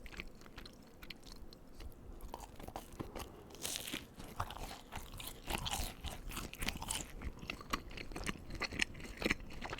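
Brazilian cheese bread balls are chewed very close to the microphone, with soft irregular crunches, wet bites and mouth sounds repeating quietly throughout.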